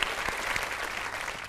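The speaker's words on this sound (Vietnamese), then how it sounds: "Một tràng pháo tay." A burst of steady applause from a studio audience at a comedy show, clapping evenly for a moment and then carrying on without pause.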